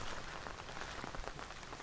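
Steady rain falls over a Konkan pond and stream, a dense even hiss with scattered drops, fairly close and heard alone.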